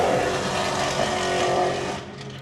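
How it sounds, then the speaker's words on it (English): A loud race car engine at a PBIR street racing event roars and revs close by, holding a dense sustained roar for about two seconds before easing off as it pulls away. "Yeah, that car rips."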